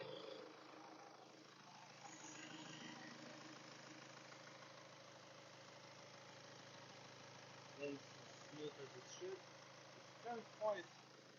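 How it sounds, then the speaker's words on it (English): A 2-litre diesel car engine idles in a smooth, quiet, steady hum, faint and close, with a few soft knocks near the end. "this is the sound of the 2-litre diesel."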